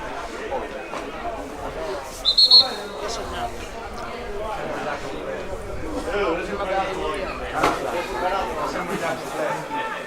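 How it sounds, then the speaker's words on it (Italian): A referee's whistle is blown once for offside at a football match, a short shrill blast heard over crowd chatter and voices from spectators nearby. "ho fischiato fuori gioco"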